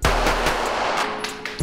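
Pistol fired at a private shooting range, with a few sharp, loud shots in quick succession ringing out over a dense, reverberant blast.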